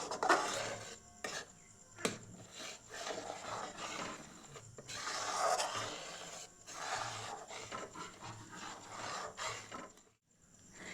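Milk stirred in a pot with cardamom powder and sugar for malai kulfi, a soft, continuous rasping scrape of spoon against the pot in uneven strokes, close and fairly quiet, with no voices.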